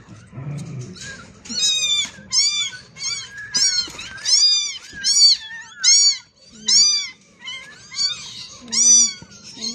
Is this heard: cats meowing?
yes